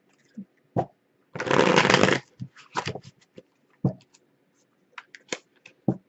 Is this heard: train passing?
no